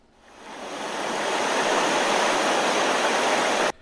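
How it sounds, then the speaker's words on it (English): Rushing water from an underground river and waterfall inside a cave, a dense roaring wash that swells in over the first second, holds steady and loud, then cuts off abruptly near the end. "Bruce Wayne explored the cave, where he found an underground river and waterfall."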